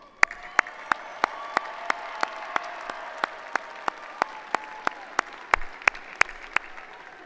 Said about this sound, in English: let's give them one more welcome round of applause